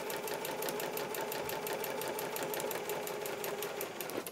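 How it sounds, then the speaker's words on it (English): A sewing machine stitching a quilt block hums in a steady rapid rattle, close but fairly quiet, alone with no talking. "I am sewing down that way to the end"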